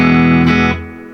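An electric guitar chord through a Fender Tone Master Twin Reverb amp after a firmware update, ringing loudly for under a second before being cut, leaving a short reverb tail fading out.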